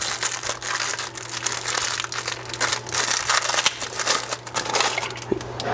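Double-sided adhesive tape being handled and pressed onto the back of a cabinet light in a bookshelf, making continuous close crinkling and crackling with steady low hum behind.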